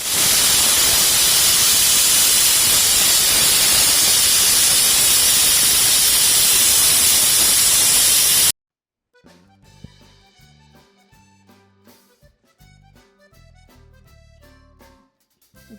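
A pressure cooker vents steam while cooking a stew, giving a loud, steady hiss for about eight seconds that cuts off abruptly into music.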